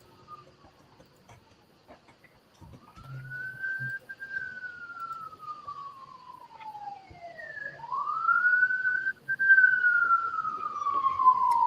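An ambulance siren in inner-city Los Angeles wails in long rising and falling sweeps, growing gradually louder as it approaches over quiet street noise.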